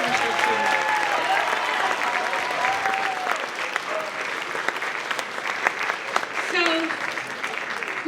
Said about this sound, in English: Can you please give them a round of applause for the work they do